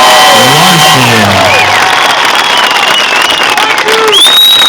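Loud crowd applause and cheering at a political rally in Alpena, Michigan, with whoops and shouts rising over dense clapping and voices calling out through the crowd.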